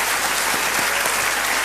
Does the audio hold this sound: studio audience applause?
yes